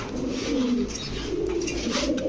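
Pigeons kept for sale in a shop, including egg-laying breeding birds, give low soft coos that roll along steadily and close by, with no talk over them.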